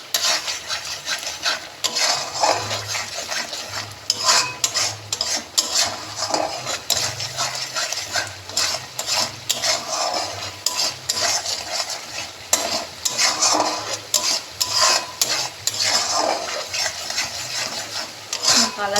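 Prawns sautéed in a pan with onion paste and ground spices: a steady close sizzle under repeated rhythmic scraping and knocking of a spoon against the pan, continuing throughout.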